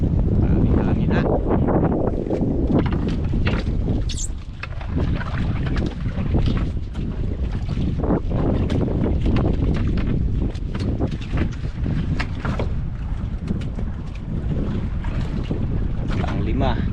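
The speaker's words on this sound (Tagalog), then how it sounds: "Grabing hangin ha." Heavy wind at sea on a fishing boat, a constant loud buffeting roar mixed with water wash and hull sounds, with occasional voices faintly under the noise.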